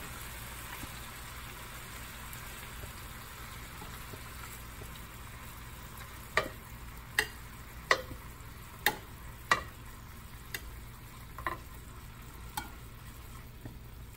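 Pen shell scallops (callos de hacha) frying in a pan over medium heat give a faint, steady sizzle, with a series of about ten soft, sharp pops or ticks in the second half.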